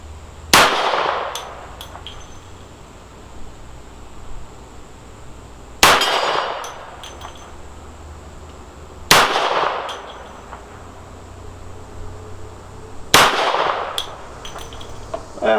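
A Smith & Wesson 52-2 fires .38 Special mid-range wadcutters at a shooting range: four loud, sharp reports spaced a few seconds apart, each with a metallic ringing tail and a quiet gap before the next.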